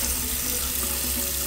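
Tap water runs steadily into a sink while a face is rinsed, a continuous close splashing hiss with no talking.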